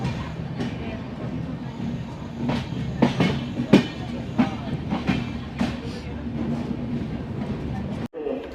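A passenger train runs along the rails with a steady rumble and irregular clicks and clunks from the wheels, heard from inside a carriage with voices talking faintly in the background.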